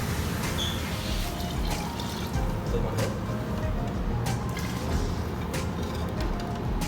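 Water pours steadily into a cooking pot for a sardine curry, a continuous splashing trickle, fairly close, running without a break for several seconds.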